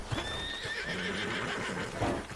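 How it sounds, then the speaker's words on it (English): A horse whinnies in the video game Red Dead Redemption 2, a clear, rising neigh over soft hoof clip-clops and background ambience. "tem um cavalo"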